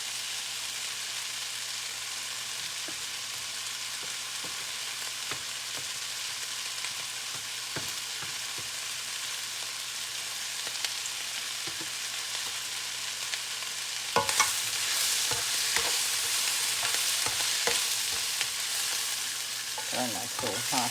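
Brussels sprouts sizzle steadily in an oiled pan on the stove, with scattered scraping stirs that grow louder and busier in the latter part.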